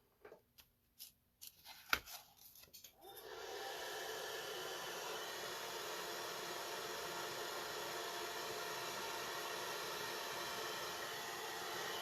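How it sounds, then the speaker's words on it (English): A hairdryer blows steadily at close range, warming the windows of a model boat; after a few brief knocks and clicks, a constant broadband whoosh holds at even volume to the end. "Alright, let's hit this with the hairdryer real quick."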